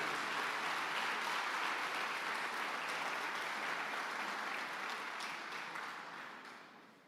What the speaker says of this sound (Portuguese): aplauda bem forte a palavra de Deus